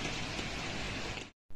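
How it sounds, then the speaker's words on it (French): Steady rain pours at dawn at 5:10 a.m. along the Camino Francés pilgrimage route, a dense close hiss that cuts off abruptly near the end before resuming. "Vous entendez le doux son, le doux bruit de la pluie qui tombe."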